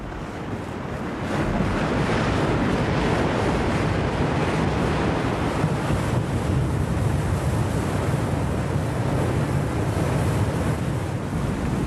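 Ocean waves break steadily on a Hawaiian black sand beach, a loud, continuous roar of surf with wind buffeting the microphone throughout and no voices.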